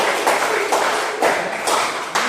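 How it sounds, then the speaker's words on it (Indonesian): A class claps their hands together in a short burst of several rhythmic claps, close and fairly loud, with no speech over it. "Kita kasih tepuk tangan dulu untuk"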